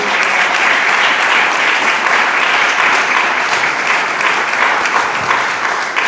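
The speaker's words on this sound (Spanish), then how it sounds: "Dele palmas al Señor." A church congregation claps for the Lord during a pastor's sermon, with sustained, dense applause that stays loud and steady for the whole stretch and no talk over it.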